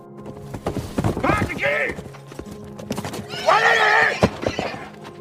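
A horse in a film scene neighs loudly twice with a long whinny, its hooves clip-clopping beneath as someone rides up, the sounds close and prominent over a bed of movie soundtrack noise.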